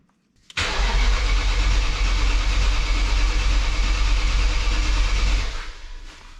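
A BMW E39 M5 V8 engine cranks briefly and catches, then runs loud and steady close by for several seconds before the sound drops off near the end.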